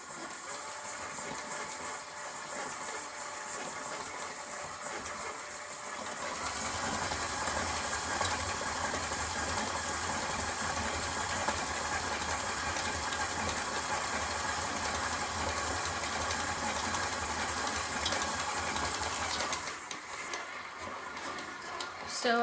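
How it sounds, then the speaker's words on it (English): An electric mixer creams butter and sugar for oatmeal chocolate chip toffee cookie dough, a steady whirring motor drone that grows louder for most of the stretch, then drops back toward the end. "So I'm creaming the butter and sugar together"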